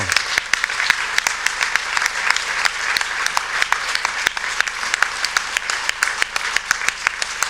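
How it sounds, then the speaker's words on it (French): An audience applauds two regional delegates at an organizing assembly in Toulouse, sustained, even clapping from a sizable crowd with crisp individual claps throughout, loud and unbroken. "Je vous remercie de les applaudir"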